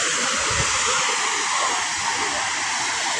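A waterfall in Bilar, Bohol, Philippines gives a constant rushing hiss of falling water, steady and fairly loud, with faint low thumps beneath.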